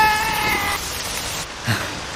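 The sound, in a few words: rain falling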